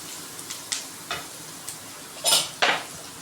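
Masala macaroni sautéed in a pan after salt goes in: a soft, low frying hiss with scattered spoon scrapes and a couple of louder stirring strokes near the end, close by and with no talking.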